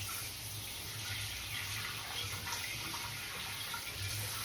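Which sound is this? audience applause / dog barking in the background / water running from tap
water running from tap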